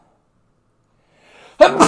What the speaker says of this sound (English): I have to sneeze, too.